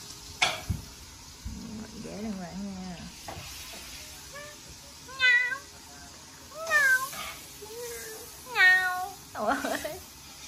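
Cat meowing at home, several short rising meows in clusters, fairly close and clear, with a sizzling frying sound and a bit of background voice underneath.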